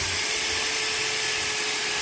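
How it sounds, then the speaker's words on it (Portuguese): A homemade drill bit boring into wood, a continuous loud whirring drill noise that stays steady throughout without pause. "vou fazer um teste aqui nessa madeira aqui, ó. Pra ver se, de fato, ela vai furar aqui."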